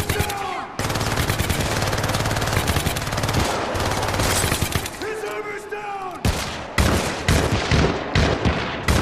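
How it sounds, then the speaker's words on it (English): A four-round burst gun fires in the video game Syndicate, with loud, dense bursts of rapid gunfire crackling almost continuously and a few short pauses between volleys. "It's a 4-round burst, but it kills."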